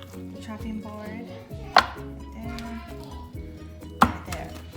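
Two sharp knocks of a knife chopping food on a chopping board, spaced a couple of seconds apart, close and crisp over steady background music.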